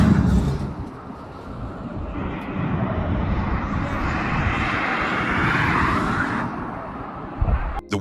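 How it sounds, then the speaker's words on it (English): An F-16 fighter jet roars past at low altitude, a loud sustained rumble with a rising hiss that swells and fades over several seconds. "An F-16 fighter jet slicing across the Mediterranean, flying low and fast"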